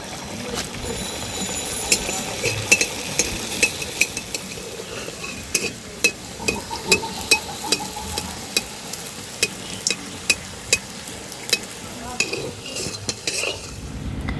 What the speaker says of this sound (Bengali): এইভাবে করে ভেজে নিয়েছি প্রত্যেকটা এইভাবে করে ভেজে নেব